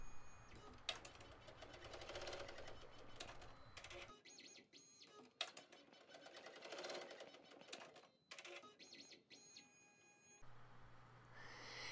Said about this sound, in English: Now we are sewing the placement for the elastics.